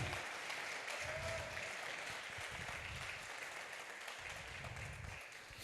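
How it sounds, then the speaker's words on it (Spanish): A church congregation gives a strong round of applause, a steady dense wash of clapping heard at a moderate distance, with low rumbling sounds pulsing underneath. "bríndale un fuerte aplauso al Señor"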